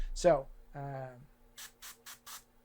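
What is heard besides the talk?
airbrush test-spraying Stynylrez primer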